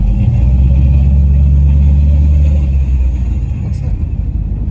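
A Dodge Coronet swapped with a Gen 3 Hemi V8 and a raised rev limiter rumbles steadily from inside the car while driving, a deep, loud, continuous engine drone.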